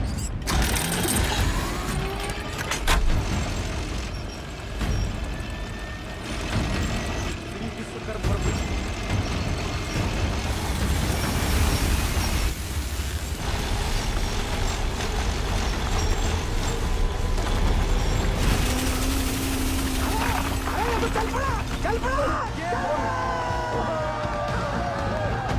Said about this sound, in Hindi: जिस तरह ये ब्लेड जमीन को काट रहा है